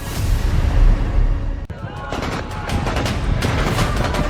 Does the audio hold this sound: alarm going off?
no